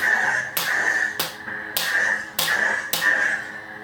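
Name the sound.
lightsaber clash sound effect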